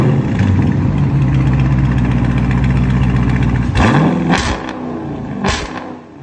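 A 2021 Dodge Charger Daytona with a 6.4-liter V8, straight-piped and fitted with 5-inch tips, rumbles loudly and close at idle, then barks through two or three sharp revs near the end before settling back down.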